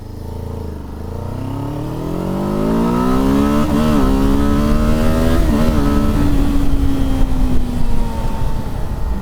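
A Kawasaki Z7 Hybrid motorcycle running on its combustion engine accelerates steadily up through the gears, its engine note rising loud and close with brief dips at two shifts before settling into a sustained high drone.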